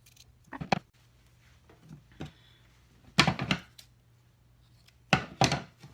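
Several short crisp snips of scissors cutting a T-shirt, in clusters, with quiet gaps between them and a low steady hum underneath, close by.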